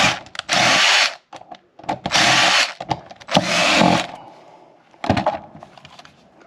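A power drill drives a self-tapping screw during an air purifier install on an HVAC system, close up in three loud whirring bursts with short pauses, then a brief final spin.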